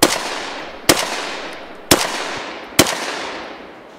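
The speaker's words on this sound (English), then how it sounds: "A Tokarev SVT-40 from the bunker." Four loud, sharp Tokarev SVT-40 rifle shots ring out at an outdoor shooting competition, spaced about a second apart, each with a long decaying echo tail and no voices.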